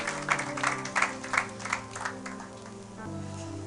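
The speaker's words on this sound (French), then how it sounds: "Acclamez pour la gloire de notre Dieu" A church congregation applauds, with bursts of clapping in rhythmic waves over sustained music, fading after a few seconds as the music continues alone.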